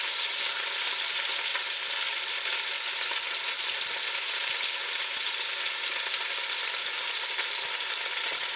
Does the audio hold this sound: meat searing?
yes